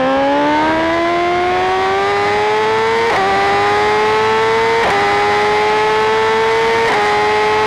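Motorcycles at a Le Mans trackday, including an Aprilia RSV4 V4R, howling past loud and close with a rising engine whine and sharp gear-change breaks as they accelerate away, with no talk.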